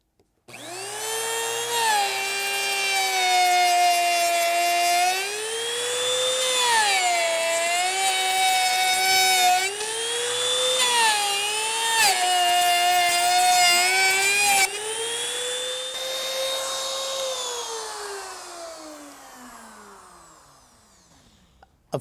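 A router flush-trims birch edging level with laminate-covered plywood, a steady high whine with strong harmonics that wavers slightly in pitch as the cut proceeds, then spins down and fades at the end.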